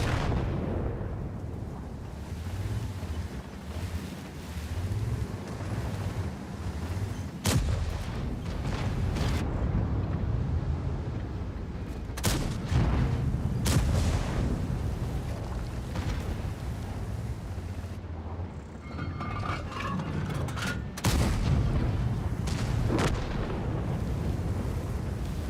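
Artillery fire striking the player in a video game, a dense, continuous rumble of booms and explosions with several sharp impact bursts scattered across the stretch.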